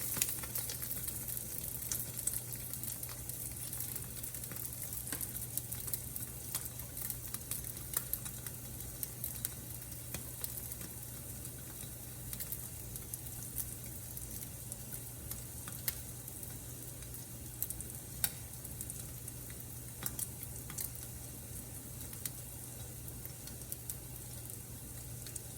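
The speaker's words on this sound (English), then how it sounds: "We're cooking with grease now." French toast fries in hot grease, a steady faint sizzle with scattered crackles and pops lasting throughout, no voices.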